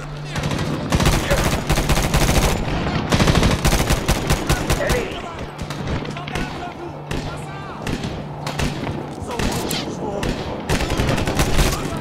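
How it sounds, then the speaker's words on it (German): Gunfire in the shooter game Medal of Honor: dense, rapid bursts of automatic weapon shots and thuds play continuously and loudly throughout, with a player's voice talking over the battle. "Ich werde von oben beschossen!"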